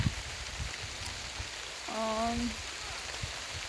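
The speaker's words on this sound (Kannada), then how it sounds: "ಮಳೆ ಬರ್ತೈತೆ ಇಲ್ಲಿ ಸಕ್ಕತ್ ನೋಡ್ತಿರ್ಬೋದು ಮಳೆ ಬದೈತೆ" Rain pours steadily on a farm garden, a dense, even patter close around, with a brief vocal sound partway through.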